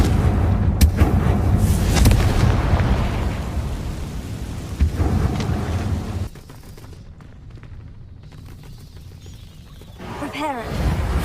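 A Confringo spell blast in Hogwarts Legacy, heard as loud, rumbling booms and crackling under dense game sound and a speaking voice, easing into quieter effects afterward.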